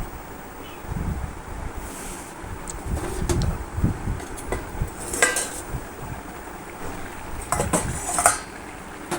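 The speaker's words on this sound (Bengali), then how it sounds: "এবার ঢাকা দিয়ে আমি এই চচ্চড়িটা সেদ্ধ হতে দেবো" A metal lid is set onto a pot of simmering bottle gourd and prawn chorchori, giving several close metallic clanks and rattles over a low rumbling background, no speech.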